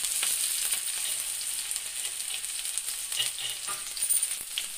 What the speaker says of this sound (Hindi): अब मैं ये लहसुन और हरी मिर्च प्याज डाल दूंगी, सभी एक साथ, और इनको भी भून लेंगे।